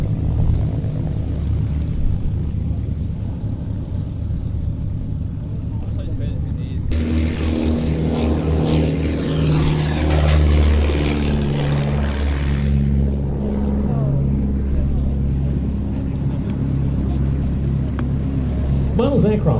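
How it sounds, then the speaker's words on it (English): A propeller aircraft flying at an air exhibition: a steady, droning engine tone with strong harmonics swells in partway through and holds loud and close over constant background noise. "Now this aircraft coming up in just a moment."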